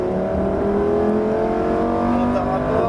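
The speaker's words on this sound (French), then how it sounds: "allez gaz à fond" A Lamborghini on a racetrack during a driving course, its engine held at full throttle with a loud, steady rising drone heard from inside the car, continuous and close throughout.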